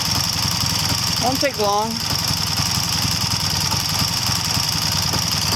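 A 1979 Triumph Bonneville T140 D Special motorcycle engine idles unevenly while the pilot air screw is adjusted, a loud close steady chugging throughout, with someone speaking briefly over it.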